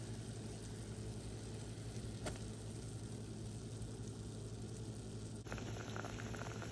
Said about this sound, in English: we are now at a boil for the 4 tablespoons of cream of tartar that have been added